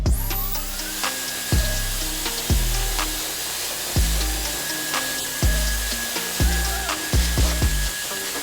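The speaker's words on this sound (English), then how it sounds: "This blow dryer is super powerful." A powerful Excel blow dryer runs on high heat, drying hair with a steady loud whoosh broken by repeated short bursts and thumps as it is moved and switched, with no talking.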